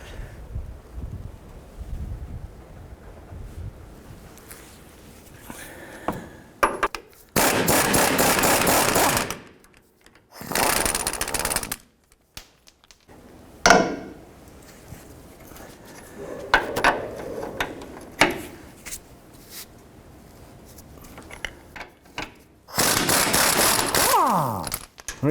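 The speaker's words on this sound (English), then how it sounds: "so we're going to use a breaker bar." A breaker bar cranks on a stubborn lower control arm bolt of a 2002-07 Jeep Liberty, with bursts of clicking, creaking metal and clunks separated by quieter handling noise, close by with no talking.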